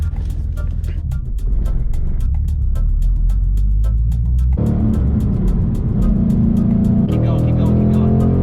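A Ford Mustang GT with a manual gearbox is driven, its engine rumbling loudly up close through a gear change as the revs climb and settle, with a rapid clicking ticking through the first half and people talking.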